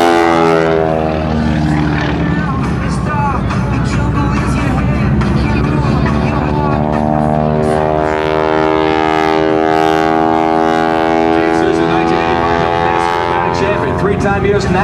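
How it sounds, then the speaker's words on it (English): Loud, steady drone of a Showcat aerobatic biplane's Pratt & Whitney R-985 radial engine making 450 horsepower at an airshow, with harmonic pitch sweeps as it passes, continuous throughout. "The sound of that R95 Pratt Whitney cranking out 450 pounds."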